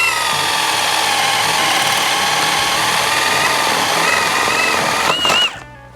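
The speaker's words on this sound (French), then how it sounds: "un perçage vraiment très rapide et relativement efficace" A Metabo BS12BL cordless drill bores into a piece of dry pallet wood with a loud, steady high-pitched whine close up, then winds down and stops near the end.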